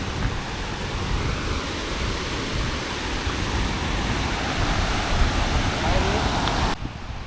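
Water pours at Panchanadi dam with a dense, steady roar of rushing flow that stays close and even throughout, with no talk over it.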